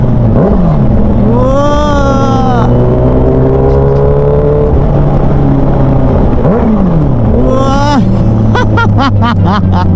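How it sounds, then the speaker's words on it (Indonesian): A Kawasaki Ninja H2 motorcycle engine revs repeatedly, rising and falling whines with a sharp series of quick throttle blips near the end, loud and close against a steady idle drone. "Mas Kenung tuh di belakang geber juga tuh"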